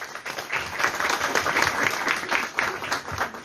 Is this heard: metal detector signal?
no